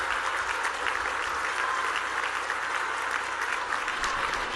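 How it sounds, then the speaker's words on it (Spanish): A crowd applauds steadily at an outdoor public event welcoming President Sheinbaum Pardo in Cuitzeo, Michoacán, with dense, sustained clapping that holds loud throughout. "les pido a todos los presentes un fuerte y caluroso aplauso"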